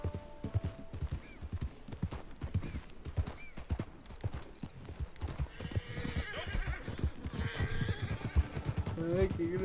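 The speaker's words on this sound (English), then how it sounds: "Ay, qué grotador un caballo." Horse hooves clip-clopping at a steady gallop with repeated whinnies and neighs in Red Dead Redemption 2, the hoofbeats loud and close, with a voice speaking over parts of it.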